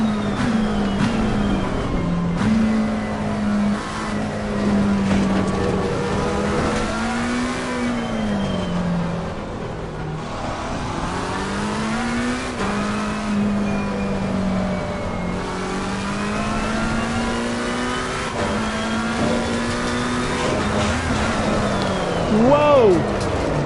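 A McLaren race car engine in Assetto Corsa Competizione drones loudly and continuously, its pitch rising and falling through throttle and shifts, with a brief sharp change near the end.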